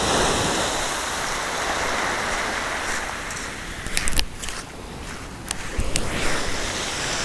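Water splashing up at sunset gives a continuous, loud rushing wash, broken near the end by sharper splashes and spattering bursts.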